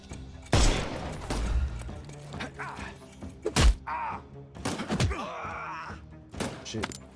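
A gunshot in the video game Sherlock Holmes: Chapter One, a sharp loud crack that stands out among scattered thuds, groans and other game effects.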